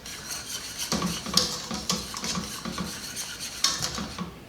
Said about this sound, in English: Be sure to keep stirring periodically while this is heating up.